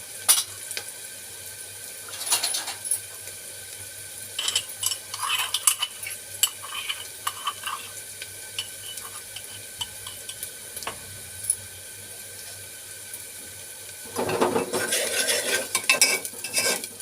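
Onions frying in a pan at home, with a steady soft sizzle under repeated scraping and clinking of a spoon or spatula against the pan, and a busier stretch of stirring near the end.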